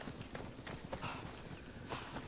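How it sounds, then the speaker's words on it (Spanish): Horse hooves clip-clop in Assassin's Creed Odyssey, a quick, steady run of hoofbeats on hard ground that sounds close and moderately quiet over the game's faint background ambience. "Que me vengo con mi caballo"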